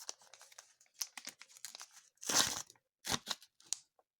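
Plastic packaging crinkles in short bursts, with one louder crackling rustle in the middle and a few brief crinkles after, close by and otherwise quiet.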